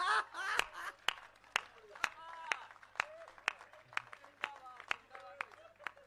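At a Hindi poetry recital, an audience claps in a string of sharp, spaced hand claps. The claps sound fairly close but the crowd is sparse. Someone talks over them.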